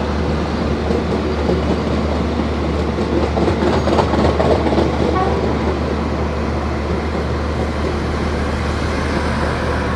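A passenger train rumbles loudly and steadily into a station at close range, with rhythmic clattering of wheels on rails and a low mechanical hum.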